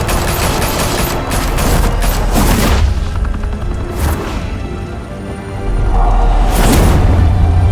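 Heavy, sustained gunfire with booming blasts from a shootout in Batman: The Telltale Series, dense and loud throughout with a brief lull before the barrage resumes.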